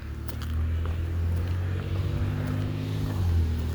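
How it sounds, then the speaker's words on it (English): A low, rumbling engine drones steadily nearby, swelling slightly toward the end as a vehicle passes, with some wind noise. "That is such a loud car"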